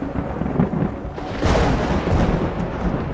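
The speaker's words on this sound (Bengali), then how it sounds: "ওদিকে এক নাগাড়ে ঝড় বৃষ্টি হয়েই চলেছে সারা দিন।" A thunderstorm effect for a Bengali ghost story: a low rolling rumble of thunder builds, then swells into a louder, heavier crash with rain-like hiss, all without voices.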